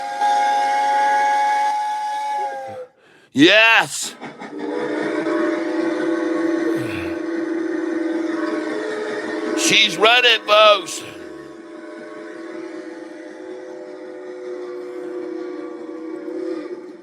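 A steam train whistle effect gives two loud, sliding blasts over a continuous hiss and rolling rumble of a moving train. Someone talks excitedly over the sound throughout.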